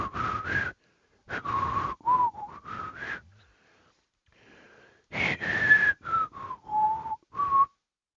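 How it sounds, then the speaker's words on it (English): Whistled notes from the Turner character in the Sprunki video game, short melodic phrases in two bursts separated by a quiet pause, with a breathy, airy quality and no talking. "you see, Turner normally sounds like this"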